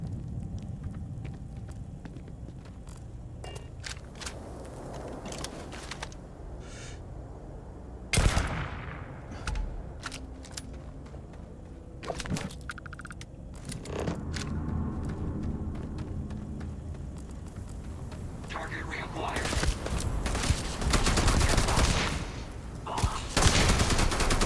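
Sustained video game gunfire: rapid bursts and volleys of shots crackle steadily for the whole stretch, with sharp louder reports standing out and the barrage growing denser and louder toward the end.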